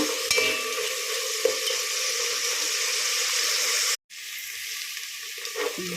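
Water is poured into a pan of ghee-roasted chana dal and cumin while making Kerala-style ghee undrallu. A steady, close sizzle and hiss runs throughout, with a brief sharp break partway and no talking.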